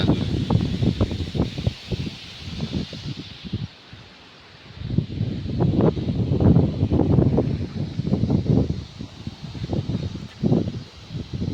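Gusty wind buffeting the microphone in uneven bursts at Dhareshvar Dam, with a brief lull partway through, loud and close throughout.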